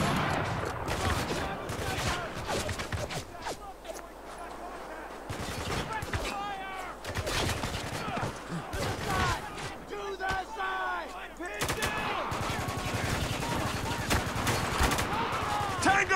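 Gunfire in Spec Ops: The Line, with dense fusillades and machine-gun bursts rattling across the whole stretch, battle shouts and crowd noise mixed in, and a voice talking over the fighting.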